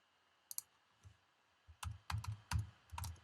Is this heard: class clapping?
no